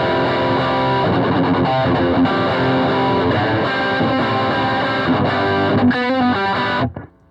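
An electric guitar played without an overdrive pedal, a sustained chordal riff that rings steadily with some distortion, then cuts off abruptly near the end.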